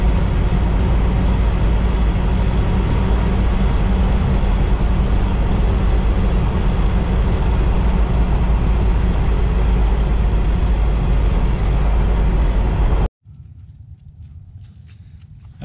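A 1997 Jeep Wrangler with a freshly replaced U-joints and balanced driveshaft on a road test, its steady, loud engine and road rumble droning continuously before cutting off abruptly near the end to a much quieter hum.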